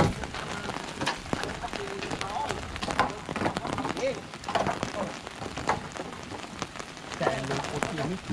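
Heavy rain pours steadily onto surfaces outdoors during a storm, a loud continuous patter with dense drops, while a person's voice is heard intermittently beneath it.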